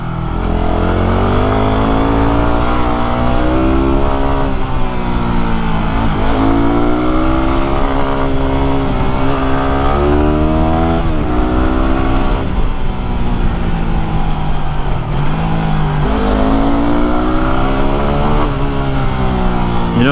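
A Yamaha WR250R motorcycle ridden along a mountain road in the Santa Cruz Mountains, its engine loud and close throughout, repeatedly revving up and dropping back as it shifts and works through bends.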